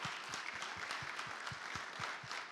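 A church congregation claps steadily in sustained applause, a dense even patter heard from a distance at low level, with no voices standing out.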